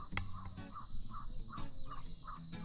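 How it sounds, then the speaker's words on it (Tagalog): Birds chirp in short repeated calls against a steady high insect drone, fairly close and clear, with no voices. "Huni ng ibon, no?"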